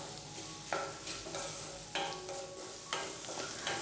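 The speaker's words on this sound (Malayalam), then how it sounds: "ഉപ്പും ചേർത്ത് കൊടുത്തതിന് ശേഷം വീണ്ടും നന്നായിട്ടെല്ലാം ഒന്ന് വഴറ്റിയെടുക്കുകയാണ്." Sliced okra sautéing with salt in a pan, a steady soft sizzle broken by repeated scraping stirs of a spoon roughly once a second, close and with no talking.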